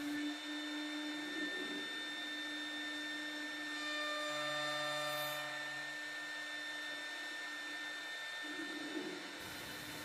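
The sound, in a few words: CNC machine climb milling the edges of wooden rails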